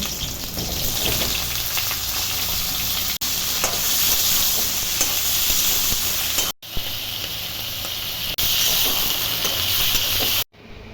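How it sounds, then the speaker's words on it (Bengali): Eggplant pieces frying in hot mustard oil in a kadai, a steady loud sizzle and crackle running through the whole stretch, broken only by a few brief cuts. "বেগুনও ঠিক এইভাবে ভেজে তুলে নেব"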